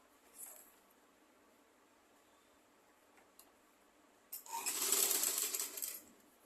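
A sewing machine stitches pleats on a plain skirt, with faint ticks and clicks at first, then a quick run of close, bright mechanical stitching.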